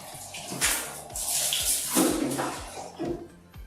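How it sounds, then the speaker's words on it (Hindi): Tap water poured into liquid soap to mix a cleaning solution for servicing a window AC at home: a steady splashing, gurgling pour, close and moderately loud, with a few soft knocks of the container. "जितना आप लिक्विड सोप डाल रहे हैं उसका 4 टाइम्स आप इसमें पानी डाल दीजिए"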